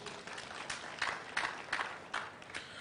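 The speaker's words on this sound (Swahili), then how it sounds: "Situwapigie makofi." Applause from the crowd at the launch of the Nairobi City County Customer Service Centre, heard as a moderately faint, steady patter of clapping with several sharper bursts and no talk over it.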